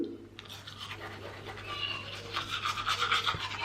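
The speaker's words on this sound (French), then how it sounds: "Donc je me brosse les dents." Close, steady scrubbing of a toothbrush while brushing teeth with Hismile whitening toothpaste, a wet rhythmic bristle rasp over a low background hum.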